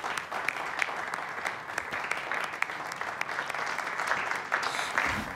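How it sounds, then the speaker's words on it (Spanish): An audience bursts into applause for a contractor's representative, steady crowd clapping with sharp individual claps standing out, continuing for several seconds. "Démosle un aplauso."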